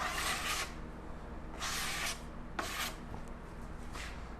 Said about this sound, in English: So you're just putting it on and basically scraping it all off, so it just remains inside that crater caused from that bubble.